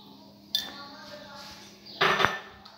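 A utensil clinks and scrapes against a bowl while chicken sandwich filling seasoned with black pepper and salt is mixed, two short bursts of clatter standing out over a quiet kitchen background.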